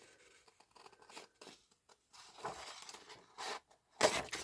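Several short crisp snips and crinkly cutting bursts of paper, close up, with quiet pauses between cuts and a louder snip at the end.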